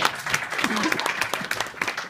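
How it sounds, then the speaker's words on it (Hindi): Listeners at an Urdu mushaira, a poetry gathering on Long Island, clap to welcome a poet: brisk, uneven applause with distinct sharp claps over a brief murmur of voices. "ये ताली नहीं, तमाशा भरपूर ताली बजाई जाती है शायर।"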